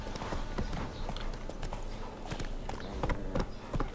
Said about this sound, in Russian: Смотрите, как долго можем галопом скачать.